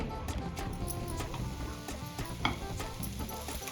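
Khoa stirred and roasted in a pan for mava gujiya, with cashews and almonds, giving a steady soft sizzle broken by scraping stir strokes and occasional light clicks of the spoon throughout.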